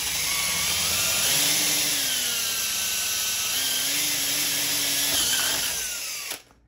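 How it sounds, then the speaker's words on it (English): A power drill whines steadily at high speed, pitch dipping and rising as it bites into metal while fitting a suspension support on a Ninebot Max scooter, then cuts off abruptly. "This drilling is very easy."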